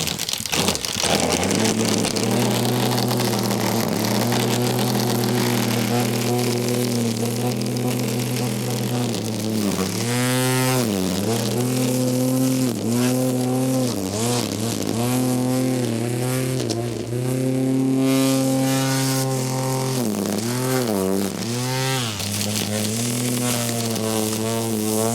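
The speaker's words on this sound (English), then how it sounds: "There's the 18-volt, 13-inch string trimmer" A Ryobi 18-volt cordless string trimmer with a 13-inch cutting swath runs steadily and close, its motor giving a constant buzzing whine that rises and dips several times as the speed is varied.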